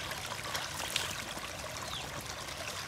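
Fresh stream water flows near the Muthyala Dhara waterfall in a steady, soft, continuous rush, with a brief faint chirp partway through and no one talking.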